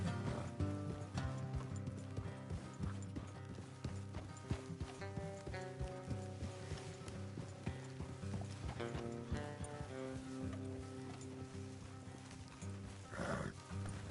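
Steady horse hoofbeats clip-clop beneath continuous game music in Red Dead Redemption 2 on PS5, carrying throughout.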